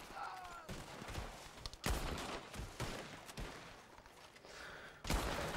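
Gunfire in the video game Red Dead Redemption 2, a battle in open fields: faint scattered shots and sharp cracks, some in quick bursts, mixed with distant battle noise and indistinct shouting.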